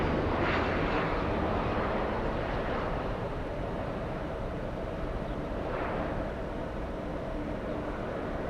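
A Lufthansa Boeing 747 airliner passes in the distance after departing Los Angeles for Honolulu, a broad steady jet roar that holds at an even level throughout, with no talk over it.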